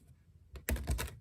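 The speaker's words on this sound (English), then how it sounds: "with that shuffling done" Tarot cards are shuffled with a few quick, crisp riffling bursts close to the microphone, rising from near silence into a dense flurry of papery clicks.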